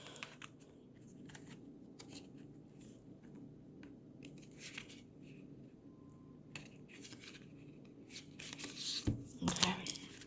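Starseed Oracle cards are shuffled and handled near at hand in soft, irregular riffles and slides, ending in a louder burst of card flicks, with quiet speech in places.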